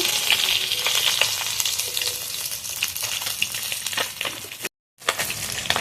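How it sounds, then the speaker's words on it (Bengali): Desi koi fish frying in a pan of hot oil until deep red, a steady loud sizzle with crackling pops throughout, briefly cutting to silence near the end before the frying resumes. "মাছগুলো ভালোভাবে লাল লাল করে ভেজে নিচ্ছি"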